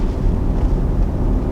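A 2019 Audi RS5 Sportback lets out a short exhaust snort, a steady loud low rumble that holds for the whole brief moment with no talking over it.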